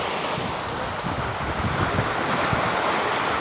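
Waves wash against a rocky, slippery shore under steady wind, giving a continuous broadband roar with gentle surges and some wind buffeting on the microphone.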